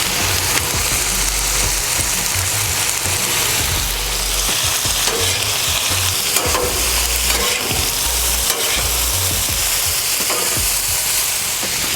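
Flour tortillas warming on a hot fajita pan give a steady broadband sizzle with low scraping and handling bumps throughout, fairly loud and continuous, no talking.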